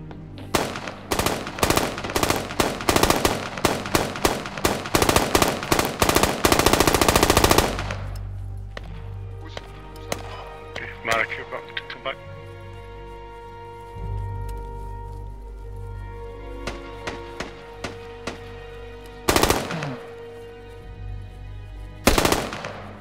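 Machine gun fire in the military shooter Squad on a Baghlan battlefield: rapid, loud, close bursts for several seconds, then quieter distant shots and a few isolated heavy cracks.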